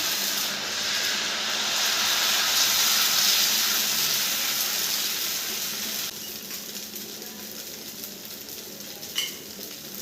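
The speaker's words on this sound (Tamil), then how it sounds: "நான் இதில் உங்களுக்கு ஒரு ஆப்பமும் ஊற்றி காட்டுறேன்." A steady, loud sizzle and hiss of appam batter poured onto a hot pan, the frying continuous for several seconds before easing slightly, close up with no talk.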